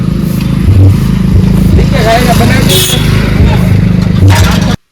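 Motorcycle engine running loud and close throughout, with a steady rumble and some clatter, while people talk over it on a village outing.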